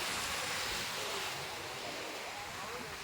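Sea waves at Dhanushkodi near Rameshwaram, where a road runs between the sea on both sides, wash in as a constant hissing broadband roar mixed with wind buffeting the microphone, steady and close for the whole stretch.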